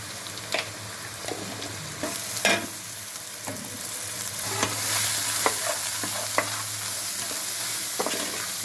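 Ginger garlic paste fries in hot oil for a Telugu raw fish curry, with curry leaves and turmeric in the pan: a steady sizzling hiss with scattered sharp crackles and spoon scrapes, close and fairly loud, no voices.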